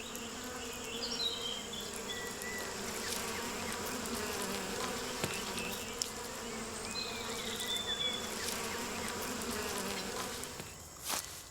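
Steady buzzing of bees and other insects fills the air, a dense continuous drone with occasional louder passes close by.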